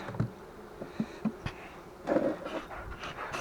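Faint buzzing of many wasps around a beehive, with scattered soft thumps and bursts of activity; no speech.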